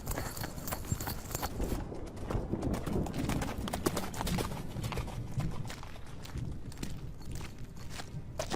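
Horses clip-clop steadily over hard ground, many hooves overlapping in a dense, continuous clatter, close and fairly loud throughout, with a faint whinny-like call mixed in.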